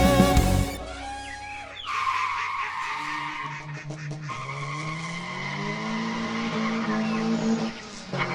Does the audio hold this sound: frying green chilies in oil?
no